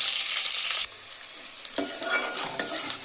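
Green chillies and onion pieces frying in a pan for drumstick-leaf curry, a steady sizzle with a brief louder burst as ingredients drop in, then stirring scrapes and crackle, close and alone.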